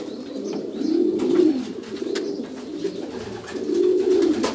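A pigeon puffs itself up and coos, giving two low, rolling coo phrases over a few seconds, close and moderately loud against faint background rustle, with no speech.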